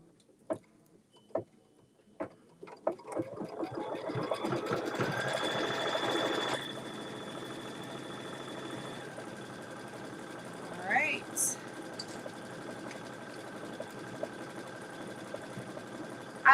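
An embroidery sewing machine stitches a decorative pattern, a steady whirring hum that starts after a few clicks and runs on at moderate volume, with people talking quietly at times.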